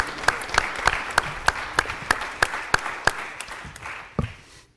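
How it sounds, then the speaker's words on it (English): Clapping at a city council meeting honoring a coach and team, heard as a series of sharp, evenly spaced claps in a steady rhythm that trails off and fades near the end. "they deserve one more round of applause"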